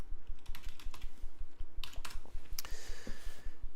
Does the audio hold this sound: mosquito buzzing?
no